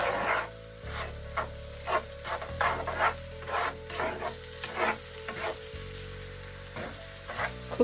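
Onions frying in a pan on a medium flame for butter chicken, a steady close sizzle broken by repeated scraping stirs, with a faint hum running underneath.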